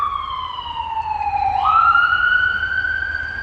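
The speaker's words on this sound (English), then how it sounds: "I hear a siren." A loud wailing siren sweeps down then back up in pitch, close by, over a low traffic rumble.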